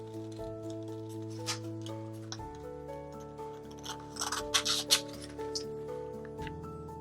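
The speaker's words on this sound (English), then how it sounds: "When you reach the shoulder, cut generously across the top and continue cutting around the piece." Scissors snipping through a paper sewing pattern, a few quiet crisp cuts and rustles of paper over soft background music.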